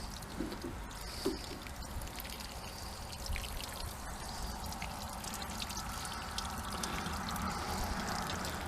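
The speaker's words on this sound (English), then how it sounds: "And there's the water running out of the bottom." Water runs and trickles out of the drainage holes of a Chinese elm bonsai pot after watering, a steady soft pouring flow that carries on throughout at close range.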